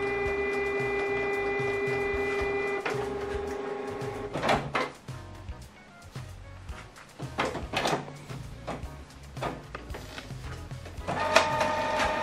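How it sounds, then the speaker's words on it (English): A Canon PIXMA MG3600 inkjet printer printing a document, with a steady tonal motor whine, then clunks, paper-feed shuffling and intermittent mechanical whirs, fairly close and without talk. "this document now is going to print"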